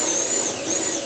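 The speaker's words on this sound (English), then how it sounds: "I'm going to drill another hole right about there." A power drill bores a hole while a mash tun is being finished, a steady high-pitched whine holding close and loud without a break for the whole moment.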